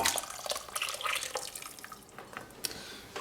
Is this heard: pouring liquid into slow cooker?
yes